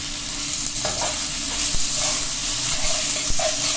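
Tomato, garlic paste, ginger paste and green chili fry in a hot pan, giving a steady close sizzle with a few stirring scrapes and clicks, no voices.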